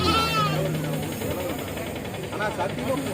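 Young Kodi goat kids bleat close by at a livestock market, several wavering cries over a noisy background with a low engine hum.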